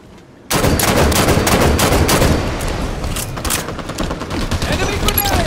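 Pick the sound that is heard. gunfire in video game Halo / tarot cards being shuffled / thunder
gunfire in video game Halo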